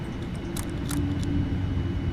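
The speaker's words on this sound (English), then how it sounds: "APU is running." An airliner's auxiliary power unit runs in a Prepar3d flight simulator, giving a steady, loud, broadband whine and rumble with no break and no talking.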